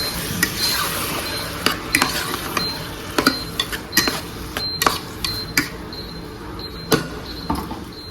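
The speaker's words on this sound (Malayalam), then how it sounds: "നമ്മളിതിലേക്ക് തക്കാളി ഇടട്ടാം എല്ലാം ഇളക്കി കൊടുക്കാം" Onions and tomatoes stirred in a pan for a Kerala bone curry, a spoon scraping and clanking against the metal in an irregular rhythm of close, sharp knocks over a soft sizzle, with no talk.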